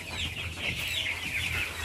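Chickens on a poultry farm, a dense flock clucking continuously and fairly close, filling the space with overlapping calls.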